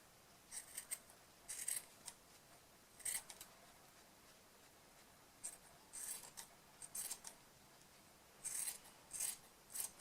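Scissors snip close-up through a dense wool pompom being trimmed, quiet crisp cuts arriving in short irregular bursts of one to three snips with pauses between.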